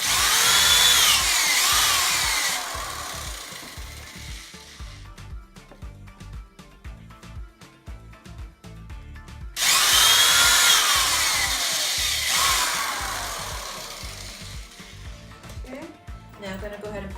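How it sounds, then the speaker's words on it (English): A power drill whines loudly in two long bursts, grinding into wood, with quieter rattling and handling noises in between. "I'm going to drill a little bit,"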